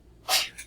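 One quick sneeze, a sharp hissing burst, close and fairly loud against quiet room tone, heard alone.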